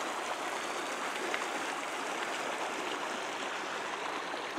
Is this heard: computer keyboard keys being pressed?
no